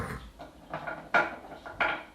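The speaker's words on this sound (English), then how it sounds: "That is my cat playing with a stone." Cat batting a painted stone around a dining table, giving several light, hard knocks and scrapes that come irregularly and sound fairly close but soft, with no talking.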